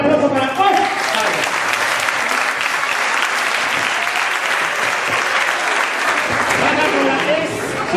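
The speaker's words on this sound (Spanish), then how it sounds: "un fuerte aplauso para Oscar" Audience applause for Oscar, a runner-up, on a Spanish TV show: loud, sustained clapping from a studio crowd that holds steady for several seconds, with voices mixed in.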